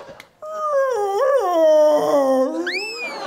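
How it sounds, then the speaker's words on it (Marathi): A dog-like cry, heard during a Marathi comedy stage show, rises into a long, wavering howl and then slides into whimpering yelps. It is loud, close and clear, with no talking over it. "सर तो कुत्रा आहे."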